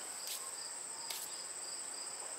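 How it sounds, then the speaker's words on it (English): Crickets chirp steadily through a Pennsylvania high-summer evening, with a continuous even trill that fills the background and occasional brief louder bursts, moderately distant and alone with no voices. "It's the crickets are out, the insects are buzzing"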